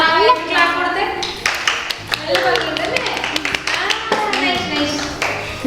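Children clap along during a finger puppet craft session, a string of sharp, uneven hand slaps scattered over a busy background with talking and kids' voices throughout.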